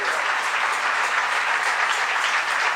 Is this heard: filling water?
no